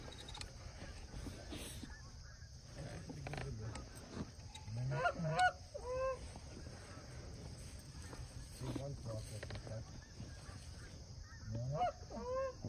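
During a Pennsylvania goose hunting opener, a flock of geese honks repeatedly, with scattered calls near and far over an open-air background, and people talk briefly in between.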